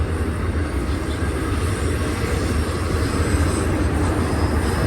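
A BNSF intermodal freight train rolls slowly past at Cajon Summit, a steady, continuous rumble of wheels and cars that stays close and even throughout, with no voices.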